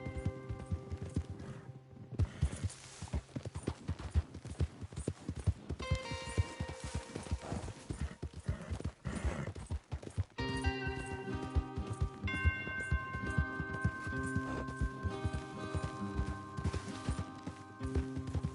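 Horse hooves in Red Dead Redemption 2 clip-clop steadily in a continuous rhythmic patter under a layer of background music, moderately loud, with no talking.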